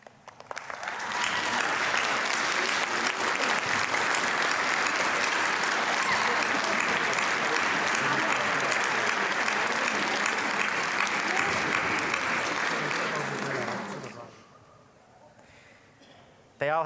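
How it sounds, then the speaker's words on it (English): Large commencement audience gives sustained, dense applause to graduates' families, rising quickly and holding steady for over twelve seconds before fading away into a quiet hall. "Please stand and give your loved ones a round of applause."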